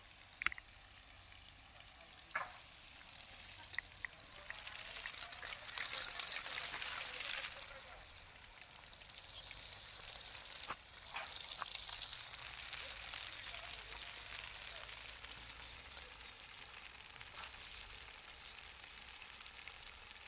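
An irrigation water jet sprays across a farm field with a steady, broad hiss of spray that stays constant throughout, with a few faint taps and voices nearby.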